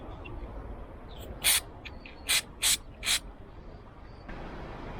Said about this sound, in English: I'm going to use some spray lithium grease on the bolt.